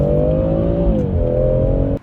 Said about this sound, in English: a hot hatchback with rear-wheel drive and a great sounding 6-cylinder engine